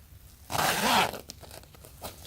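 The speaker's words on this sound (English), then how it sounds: "So you got a zipper right here" A single quick zipper pull on a Supreme shoulder bag, a loud rasping burst lasting about half a second, followed by faint rustling of fabric.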